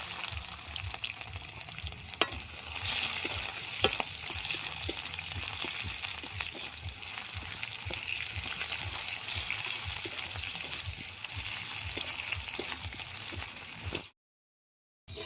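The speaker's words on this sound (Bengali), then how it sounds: "পেঁয়াজ জিরে আর তেজপাতা কত সুন্দর লাল লাল হয়ে ভাজা হয়ে গেছে" Onion, cumin seeds and a bay leaf fry in hot oil for an aloo posto dish, a steady close sizzle with small crackles and pops that runs continuously before cutting off abruptly near the end.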